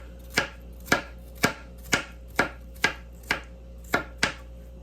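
A knife chops through half an onion on a cutting board in a steady rhythm, about two crisp thuds per second, close and clear with no speech.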